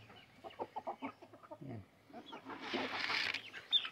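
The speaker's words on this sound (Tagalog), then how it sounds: "Yan po yung mga Rhode Island chicken ko." Rhode Island Red hens and a rooster cluck and mutter close by at feeding time, with short, uneven calls that build into a louder squawk near the end.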